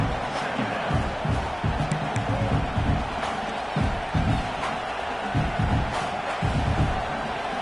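Stadium crowd in a college football video game, Miami at Clemson, roaring steadily with surging cheers and whoops rising in waves throughout, a dense continuous wall of noise without clear commentary.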